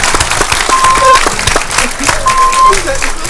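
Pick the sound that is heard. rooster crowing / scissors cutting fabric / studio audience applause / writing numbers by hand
studio audience applause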